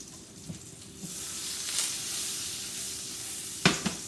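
Two broken garlic cloves go into a pan of melting butter before a steak is cooked, giving a steady soft sizzle with a few faint ticks and pops, close and alone with no talking.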